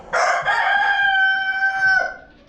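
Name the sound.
chickens clucking and crowing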